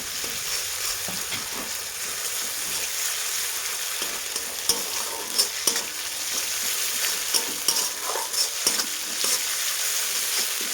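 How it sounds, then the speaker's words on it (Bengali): Ground cumin paste fries and sizzles steadily in a pan of oil, with occasional scrapes and taps of a spoon as it is stirred, all close and continuous with no talking. "মানে আমার মশলা ভাজা হয়ে গেছে"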